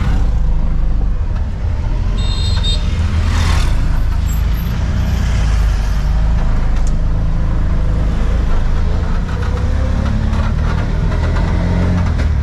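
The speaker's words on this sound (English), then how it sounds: "Second tuk-tuk of the day." Rumbling small engine of a tuk-tuk riding through Phnom Penh traffic, loud and constant low drone with passing vehicles and a brief horn or brake squeal, no talk.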